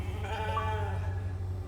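A sheep bleats in a video game, one drawn-out wavering bleat heard close and clear over a steady low background hum.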